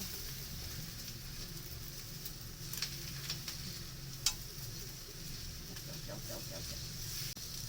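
Japanese-style pad thai stir-frying in a home kitchen pan, a steady low sizzle with occasional soft scrapes and ticks of utensils throughout, fairly quiet and continuous.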